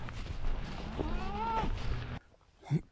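A cow on a farm lets out one long, drawn-out moo that rises and falls, near and clear over outdoor background noise, then the scene turns quiet apart from a short faint sound at the end.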